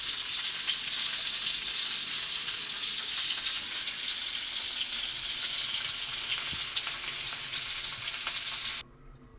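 Fish sizzles and crackles in hot oil in a steady, busy hiss, close by, cutting off abruptly near the end.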